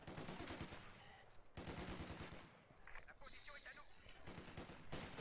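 A machine gun in an online video game tournament match fires in several rapid, rattling bursts separated by short pauses. The shots are fairly faint and sit under commentators talking.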